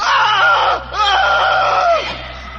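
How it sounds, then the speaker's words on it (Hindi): A man in a Hindi horror audio drama screams loudly in two long, strained bursts separated by a short gap, then the sound trails off. "आकृति की ओर देखकर जोर से चीखा"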